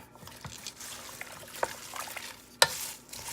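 Cabbage and vegetables being stirred in a stew pot for a chicken veggie stew, with soft wet scraping and shuffling, a couple of sharper utensil knocks against the pot, and a faint simmering sizzle beneath.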